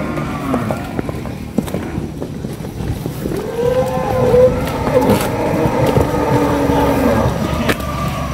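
Belgian Blue cattle on a convoy in Bogor give a few drawn-out lowing moos over outdoor rumble and shuffling hooves, moderately close and fairly loud.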